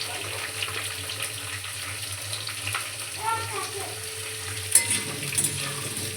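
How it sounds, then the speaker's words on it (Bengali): Fish curry with kohlrabi and potato frying in a pan as it is stirred, giving a steady low sizzle with a few soft scraping clinks near the end; no talking. "ভালো করে নেড়ে নিয়ে ঢাকা দিয়ে ভাজবো।"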